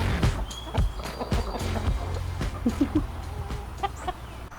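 Backyard garden chickens cluck and squawk close by, with scratching and footsteps on the ground between the calls.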